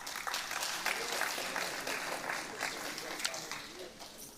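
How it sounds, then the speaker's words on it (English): Moderate clapping from a crowd at a high school athletics sports banquet, steady and somewhat distant, with chatter mixed in as it gradually fades. "let's give them a round of applause"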